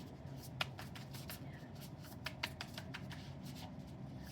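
Tarot cards are shuffled in quick, crisp riffles and slaps, close and fairly quiet, with a few sharper snaps.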